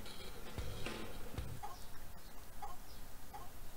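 Short clucks from a chicken inside a barn in The Sims Bustin' Out, a few soft game-sound calls spaced over faint background ambience.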